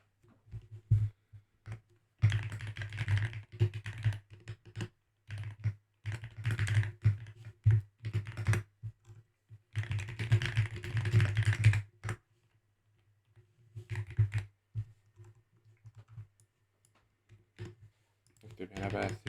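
Code is typed on a computer keyboard in bursts of fast close clicking separated by pauses, with soft key taps scattered between and a low hum beneath.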